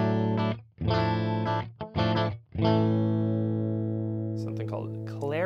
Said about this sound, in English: for the clean tones, I always gotta bust out a proper Strat